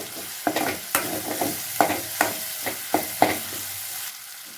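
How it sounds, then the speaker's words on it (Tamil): Medium tomatoes sauté in a pan for a potato and drumstick masala curry, with a steady sizzle broken by about a dozen sharp scrapes and clacks of a spatula stirring them, close up and with no voices. "தக்காளி அது பச்சை வாசமும் நல்லா வணக்கிக்கலாங்க"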